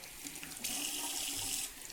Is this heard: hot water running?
yes